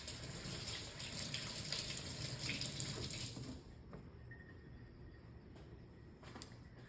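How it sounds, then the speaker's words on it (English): Tap water runs steadily into a sink during hand washing in a home kitchen while Cuban food is being prepared, a loud continuous gush that stops partway through, leaving quieter room sound. "Wash my hands."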